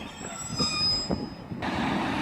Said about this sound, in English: 156425 is now departing off to Liverpool Lime Street.